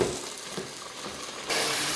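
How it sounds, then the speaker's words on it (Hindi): Mutton and moringa flowers frying in a pot, giving a steady close sizzle with faint stirring, which turns louder and brighter partway through. "तो अब इसको ऐसा ऐसा अच्छे से भून लेंगे गोश्त के साथ ही सुहाने को"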